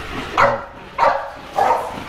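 Several dogs at a breeding kennel bark in three sharp, evenly spaced bursts, close and fairly loud with brief pauses between.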